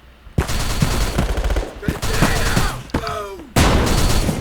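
Rapid bursts of automatic gunfire from the video game Bullet Force, loud and close, in sustained volleys broken by brief gaps, with a player's voice talking at times over the shooting.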